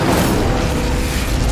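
The Incendio fire spell from Hogwarts Legacy goes off as a loud, close, rumbling whoosh-boom that fills the whole short moment with dense roaring noise.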